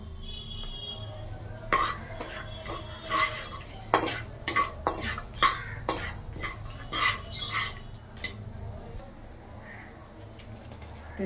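Cinnamon sticks, cloves and cardamom pods fry in hot oil in a pan. A faint sizzle sits under repeated sharp spatula clinks and scrapes against the metal, coming in irregular bursts.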